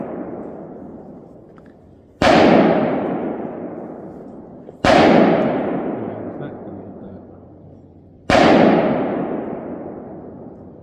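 Three loud rifle shots on an outdoor range during a 200-to-50-yard long-range combat drill, each a sharp crack followed by a long rolling echo, spaced a few seconds apart.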